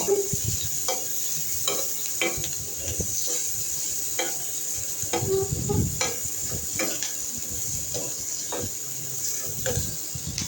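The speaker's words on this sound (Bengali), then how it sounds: "তেলের মধ্যে পেঁয়াজ দিয়ে এখন পেঁয়াজটাকে ভালোভাবে ভেজে নেব" Onions sizzle in a small amount of oil in a pan while being stirred, a steady frying hiss broken by regular scraping and clicking strokes of the spoon, close and moderately quiet.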